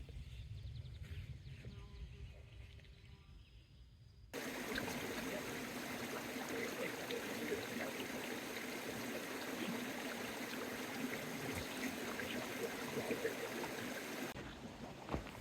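Bear Creek flowing along the Colorado Trail, a steady broadband rush of stream water that swells sharply louder and nearer partway through, continuous and with no one talking.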